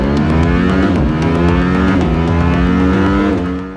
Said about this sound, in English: I love the bark of the exhaust in the higher revs